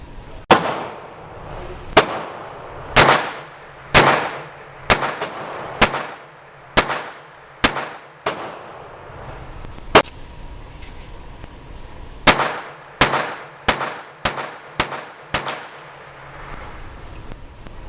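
Sharp gunshots from a Jennings J-22 pistol firing Fiocchi Field Dynamics .22 ammunition, a steady string of about a dozen close, loud reports with a short pause midway before the shooting resumes.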